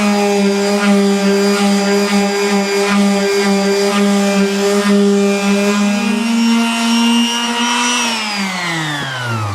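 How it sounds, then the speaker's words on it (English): A power sander runs over furniture veneer with a loud, steady, close motor whine that holds even and then shifts in pitch near the end, with no voices. "So now you can see that we've sanded these 2 sides"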